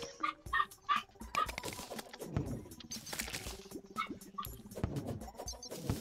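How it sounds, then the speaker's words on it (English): A neighbors' dog barking and yipping in a series of sharp, irregular barks with short whimpering notes in between, moderately faint and heard from a distance behind game sounds. "Oh man, the dog, that's not actually our dog, that's from the neighbors."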